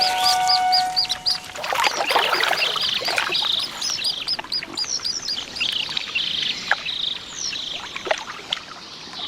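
A family of wild ducks and small ducklings peep and quack in bursts near water, with high chirps layered over soft splashing outdoors.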